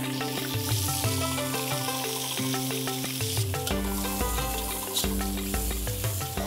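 Onion, garlic and ginger sauté in a wok with a strong, steady sizzle and occasional stirring scrapes, close and loud, under continuous background music.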